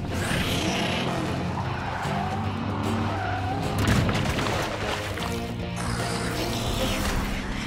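Cartoon Hot Wheels cars race through Hot Wheels City with loud, continuous engine roar and repeated tire skids and squeals, plus an occasional boom.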